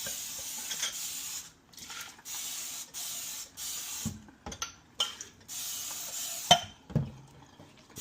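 Repeated hissing bursts from a trigger spray bottle spraying Dawn Platinum Powerwash degreaser onto greasy containers, each about a second long, interspersed with small clicks and knocks of handling.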